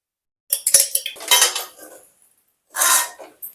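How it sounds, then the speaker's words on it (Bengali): Spoon scraping and clinking in a pan while sabudana pulao is stirred, a few sharp metallic knocks followed by bursts of scraping, close and fairly loud with no voices. "আবার ভালো করে একবার নাড়িয়ে নেব।"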